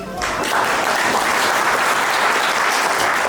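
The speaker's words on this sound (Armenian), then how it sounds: "Բարձր ծափահարություններով ողջունում ենք մեր Հասիկ Մայրիկին" Loud, dense applause from guests at an engagement celebration in Dilijan, a close, continuous wash of clapping that swells in within the first moment and holds steady to the end.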